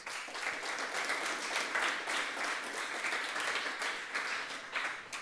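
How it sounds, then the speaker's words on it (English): Another round of applause from the audience after a talk on asymmetric cryptography and elliptic curves, a moderately quiet, steady patter of many hands that swells and dips slightly but never stops. "let's give Andrew another round of applause, please"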